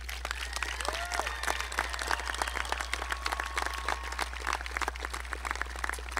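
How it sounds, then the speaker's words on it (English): Steady applause from a crowd at a school commencement, dense clapping that holds at an even level throughout with no voices standing out. "give them a round of applause to say thank you"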